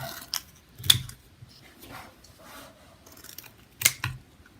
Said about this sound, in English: Now I'm going to cut up just some random shapes here.